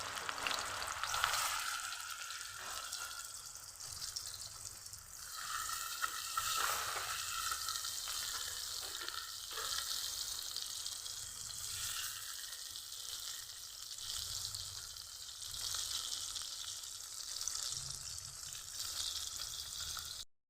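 Koi fish pieces, coated in spices, sizzle and crackle steadily in hot oil in a pan, a dense, continuous frying hiss close up with no voices.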